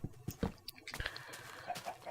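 Chickens in a blocky building video game give soft, faint clucks and short chirps in a loose, irregular patter.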